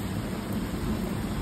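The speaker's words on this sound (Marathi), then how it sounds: "आवाज तड तड तड तड तड तड तड तड विजा कसा तड तड तड तड तड" Thunder rumbles low and continuous through a steady rainstorm, with dense rain noise filling the whole stretch at an even, fairly loud level and no voices.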